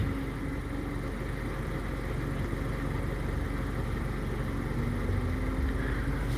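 A car engine idles with a steady, dense rumble right beside the exhaust, loud and unbroken with no talk.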